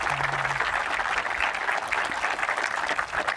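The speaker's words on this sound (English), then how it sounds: "Give them one more round of applause if you guys would." A crowd of spectators at an outdoor golf skins tournament gives a round of applause for the players, a steady, dense clapping that holds at full loudness throughout with no talking over it.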